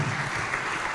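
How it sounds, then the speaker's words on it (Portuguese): A church congregation claps together during a worship service, a steady dense wash of applause filling the room with no pauses, loud and close. "Vamos aplaudir ao Senhor Jesus."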